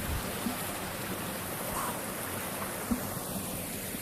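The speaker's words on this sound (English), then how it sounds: "This is the local waterfall here in town" A small man-made town waterfall near a hiking trail, pouring as a steady, moderate rushing wash throughout, with a couple of faint brief knocks and no speech.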